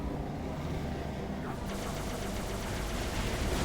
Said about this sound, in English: Okay, somebody's shooting.